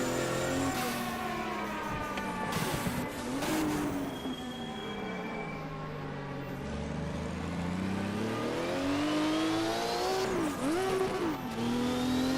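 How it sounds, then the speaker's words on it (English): Group 5 race cars in the Automobilista video game, engines howling loudly as revs climb and fall through shifts, with overlapping high-pitched whines from several cars and no talk. "I want you to enjoy the sound of these cars as much as I am through my headphones"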